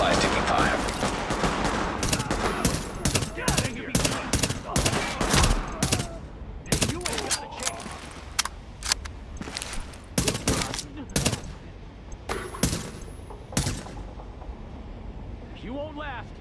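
Bursts of gunfire in The Division rattle out in sharp, repeated shots and volleys throughout, some clustered and some spaced, with voices talking between them.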